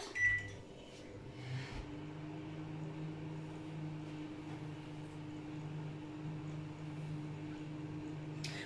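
A microwave oven runs steadily, melting 90 g of butter, with a constant low hum and drone throughout and a brief click near the start.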